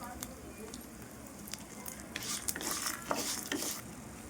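Peanuts, cumin seeds and fenugreek seeds fry together in a pan, giving a quiet, steady sizzle broken by faint stirring scrapes and small crackling pops.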